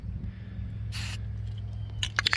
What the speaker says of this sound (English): A little test spray.